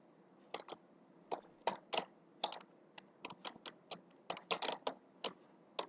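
Someone types on a computer keyboard, producing irregular bursts of quiet, close-up key clicks in short runs with small pauses between them.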